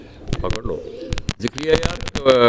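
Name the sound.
pigeons cooing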